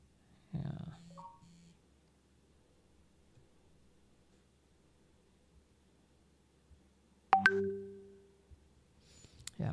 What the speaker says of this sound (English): I'm getting these notifications. Don't mind that.